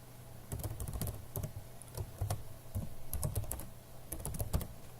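Login email and password typed on a computer keyboard, quick irregular close key clicks in bursts with short gaps, no talking.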